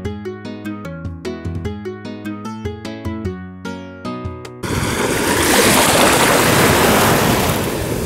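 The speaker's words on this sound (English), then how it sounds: "right here on this line where the waves pull back" Waves wash loud and steady onto the Lake Michigan shore, a broad rushing surf that follows several seconds of piano music.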